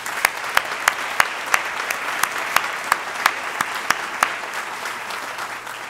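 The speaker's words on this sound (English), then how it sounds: "So let's give all our speakers a big round of applause," An audience claps for the speakers at an inauguration ceremony, a steady wash of applause with a few sharp individual claps standing out, no voices over it.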